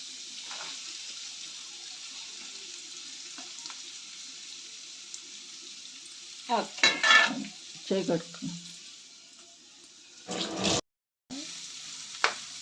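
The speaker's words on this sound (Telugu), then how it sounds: "అండ్ దెన్ ఆనియన్స్ వేసే మమ్మీ" Onions for a prawn curry frying in a pan, a steady sizzle running throughout with bursts of scraping and stirring near the middle and end, plus brief clatter.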